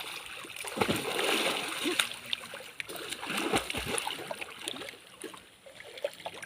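Water splashes and sloshes as people bathe in a river, with irregular near splashes and a running-water wash throughout, mixed with voices in the background.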